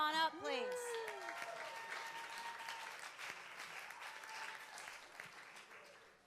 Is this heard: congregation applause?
yes